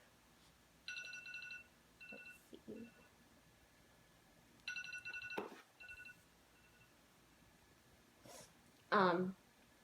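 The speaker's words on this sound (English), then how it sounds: "Hold on, my phone is going off." A mobile phone rings with short bursts of electronic ringtone tones, recurring in a few separated phrases, while a person briefly speaks nearby and a louder vocal sound comes near the end.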